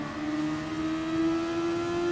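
A Super Formula race car screams along the long straights at Bathurst in Gran Turismo Sport. The engine holds a steady high-pitched tone that climbs slightly as it nears the limiter, close and loud, with no voices.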